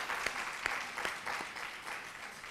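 An audience at a Bharatanatyam arangetram recital applauds the dancer, a soft, steady wash of clapping in a hall, with a few sharper claps standing out near the start.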